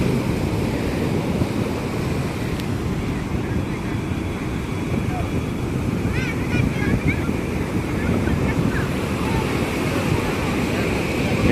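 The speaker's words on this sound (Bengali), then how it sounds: "এই বড় ঢেউ এলো, ঢেউতে সবাইকে ভাসিয়ে নিয়ে গেল।" Large morning high-tide waves breaking and rushing up Puri beach, a continuous loud roar of surf with wind buffeting the microphone.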